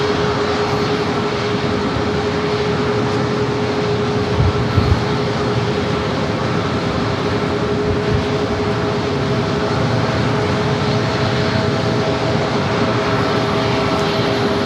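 Boeing 737-800 airliner taking off from runway 27 at San Diego airport, a steady broad jet engine roar that holds at a constant loud level throughout, with no voices.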